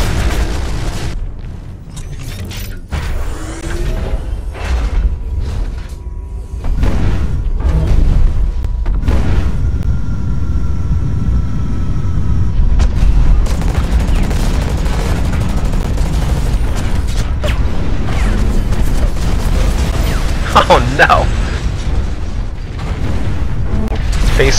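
Rocket explosions and gunfire in the mech shooter Hawken, heard as loud, continuous rumbling booms with rapid crackling shots layered over a dense battle din, without talk.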